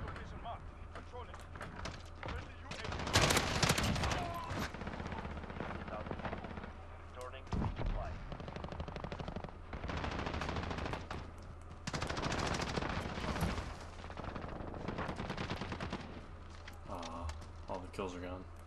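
The Holger 26 light machine gun fires in Modern Warfare gameplay in long, loud automatic bursts separated by brief pauses, with other game sounds underneath and someone talking excitedly over the shooting.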